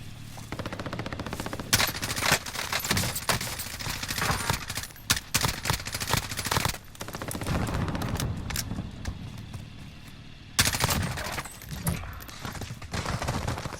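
Call of Duty Warzone gunfire in a tense late-match firefight: dense, continuous bursts of automatic shots crackle throughout, with brief gaps and renewed loud volleys, and no voices.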